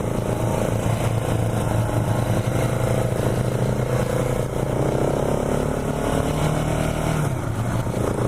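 KTM 690 Enduro R single-cylinder motorcycle from 2017 running steadily up close, its engine note rising and falling through gear changes with blipped rev-matching downshifts, continuous loud engine drone throughout.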